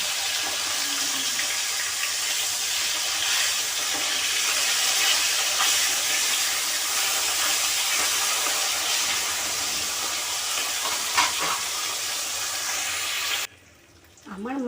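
Aila fish sizzles in hot oil in a frying pan, a steady, close crackling hiss that runs unbroken before cutting off abruptly near the end, where a faint voice begins.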